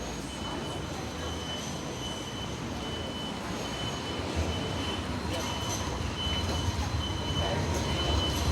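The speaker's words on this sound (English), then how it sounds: "Truck's got to wait for the tram to go past" A Sydney tram rolls past on a damp, overcast street, a steady rumble of wheels and rail noise with faint squeal, while a vehicle's alarm beeps and a voice talks quietly in the background.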